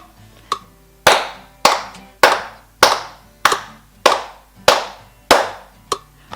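Children clap a steady quarter-note beat, about nine crisp, evenly spaced claps ringing in a small room with no talking.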